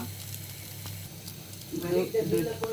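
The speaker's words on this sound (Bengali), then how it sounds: "ম্যানেসে ভালোভাবে চুবিয়ে নেওয়া হয়েছে এখন একটু হালকা বেজে নেওয়া হবে" Vegetable sandwich pieces coated in mayonnaise frying in a pan, a steady soft sizzle building louder toward the end with brief clinks.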